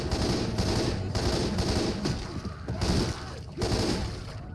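Rapid automatic gunfire in Left 4 Dead 2, loud bursts of repeated shots with brief pauses, close and dominant, with faint talk beneath.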